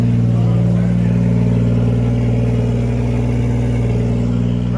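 A BMW E36 wagon's engine and exhaust run at a steady idle, a continuous low, slightly lumpy rumble heard close up from behind the car, with a faint voice in the background.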